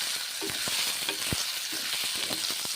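Paneer fried with moong dal and spices in a pan, a steady close sizzle broken by repeated scraping and clinking stirs of a spatula, with no voices.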